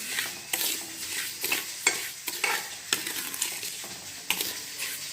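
A spoon stirs sugar in a pan over a low flame while making coconut milk halwa, giving repeated scraping strokes against the metal with a soft sizzle underneath, close and steady, with no voices.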